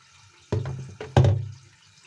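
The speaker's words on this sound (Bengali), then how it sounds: "তোর 4টে বোতল ধুয়ে রাখছি। দেখ, সাবান ভিম লিকুইড দিয়ে" Water from a running tap splashes over bottles being washed with liquid soap in short bursts, a few close sloshes and gushes that fade out.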